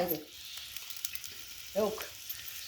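Vegetables sauté in oil with a light, steady sizzle and occasional stirring clicks, and brief bits of voice come in at the start and again near the end.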